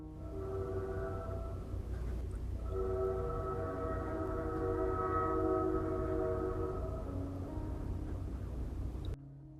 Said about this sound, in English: Linda the Train decided she wanted to pipe up real quick.